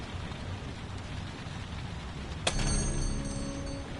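Steady rain falls outside in the Heavy Rain video game, a constant wash of drops with a sharp crack about two-thirds through, after which ringing tones linger over the downpour.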